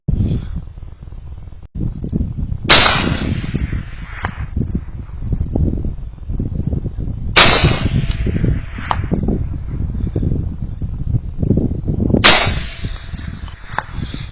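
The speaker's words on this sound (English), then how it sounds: "You shoot a lot of rocks here in Nevada." Three loud rifle shots fired at rocks in the Nevada desert through a scope with attached night vision, spaced about five seconds apart, each a sharp crack with a ringing tail over steady low background rumble.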